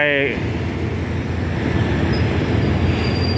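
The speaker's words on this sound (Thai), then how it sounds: "รถไฟฟ้านะครับ" An electric train rumbles loudly and steadily through Bang Sue Grand Station in Bangkok in the morning, with a brief tonal whine at the start and a faint high squeal later.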